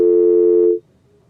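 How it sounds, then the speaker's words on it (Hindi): A telephone line tone after a call disconnects: one steady, loud electronic tone held for under a second, then cut off abruptly into near silence. "उनकी फोन लाइन डिस्कनेक्ट हो गई"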